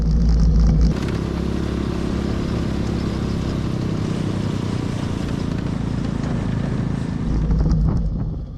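A mini jeep engine driving off-road on a mountain trail at high elevation, a steady loud drone with rattling and wind buffeting throughout, swelling slightly near the start and end.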